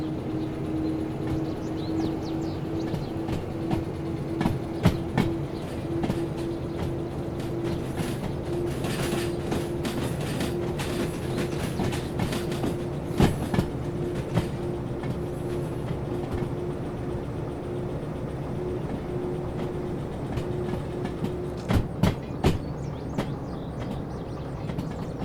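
A DE2 locomotive running with the Slug in the train simulator game Derail Valley gives a steady low engine drone with a constant hum, punctuated by scattered mechanical clanks and rattles throughout.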